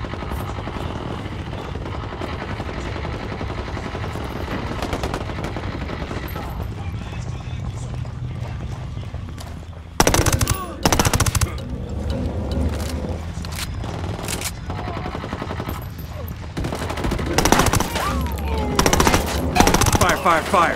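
Machine gun fire during a firefight in the Ghost Recon Wildlands video game, dense bursts of rapid shots over a constant rumble of battle noise, growing louder and more intense in the second half.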